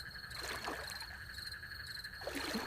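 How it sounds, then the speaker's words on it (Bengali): A boat rowed along a river at night, with faint soft water movement under a steady, close drone of insects and frogs that runs through the whole stretch. "জলের শব্দটা শোনো, নৌকা চলছে"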